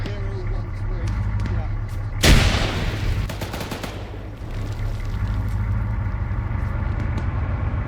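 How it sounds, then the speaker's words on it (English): One sharp, loud grenade blast bursts in a video game firefight, followed by a rolling rumble and scattered gunfire amid steady background noise, while players talk. "Fuckers are throwing grenades"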